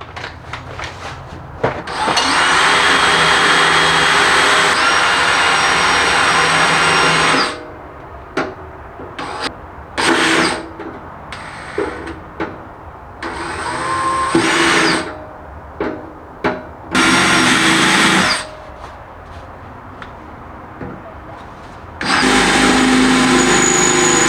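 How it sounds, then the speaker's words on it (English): A power drill with a 3/8-inch bit whirs in long loud bursts while drilling a wing mount into a C5 Corvette chassis, pauses, then several short grinding pulses before a final sustained run. "3/8 is a pretty big drill bit."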